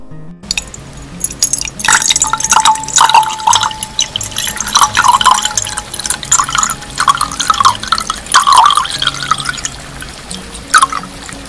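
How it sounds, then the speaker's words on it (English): Tap water runs and splashes while someone washes their hands and face at a sink, with dripping and pouring sounds rising and falling close by for about ten seconds. "He washes his hands and face."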